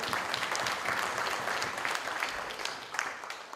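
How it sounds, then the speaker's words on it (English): Audience applause for election candidates at a Bangalore civic agenda event, dense clapping from a sizable crowd filling the whole moment and tapering slightly near the end. "so a round of applause to all of you"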